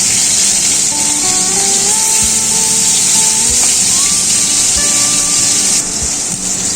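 Katla fish pieces fry in hot oil in a pan, giving a loud, steady sizzle with faint tonal whines and occasional soft knocks from handling, and no one speaking.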